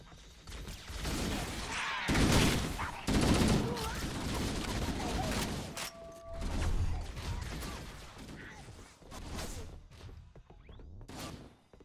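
Gunfire in Halo: Combat Evolved, on the Truth and Reconciliation mission, with bursts of shots and impacts through the clip, loud in stretches, mixed with explosive thuds, whooshes and people talking over it.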